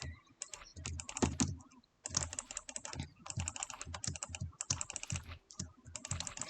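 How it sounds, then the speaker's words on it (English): Rapid clicking of a computer mouse being jitter-clicked, dense bursts of quick clicks with short pauses, close and fairly quiet, no talk. "You can probably hear me. I'm jitter-clicking my pickle placement."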